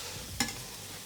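Seasoned potatoes are pushed across a frying pan in a single brief scrape over a faint, steady background. No one speaks.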